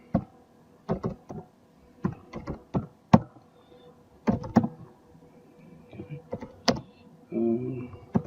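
Keys clatter on a computer keyboard at a desk, typed in short bursts of crisp, close clicks with brief pauses in between, ending in a low shuffle.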